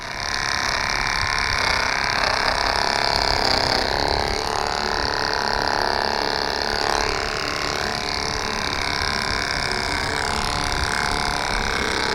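Electric clippers running steadily against a horse's coat, a continuous close buzzing whir with slight changes in tone as the blades move through the hair.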